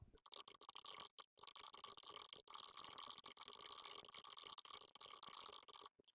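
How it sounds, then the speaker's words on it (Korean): Computer keyboard typing: a quiet, dense run of rapid key clicks with a few short pauses, continuing steadily for several seconds. "일단 타이핑을 먼저 할게요."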